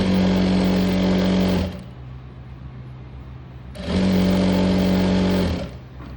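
Electric sewing machine stitching an umbrella frock, running in two loud close bursts of rapid whirring with a quiet pause between them.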